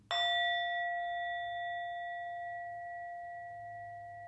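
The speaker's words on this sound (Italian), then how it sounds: "Intanto vi faccio ascoltare il suono della campana." A Tibetan singing bowl is struck once and rings with a clear, pure tone, the bright strike giving way to a long, steady resonance that fades slowly over several seconds, heard alone.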